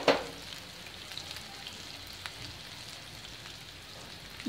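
Soft, steady sizzling of masala spices frying in a pan for chicken hariyali, faint and continuous with a few light crackles and a louder stir or scrape at the start and end.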